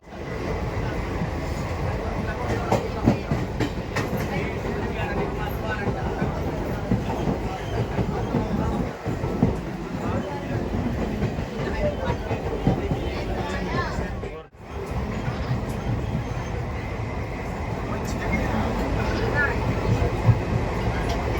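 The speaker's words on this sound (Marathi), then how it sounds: "एकंदर रेल्वेने चाललेला प्रवास" A train rumbling along the rails with a continuous rattling, clickety-clack texture and a brief dip midway, faint voices mixed into the noise.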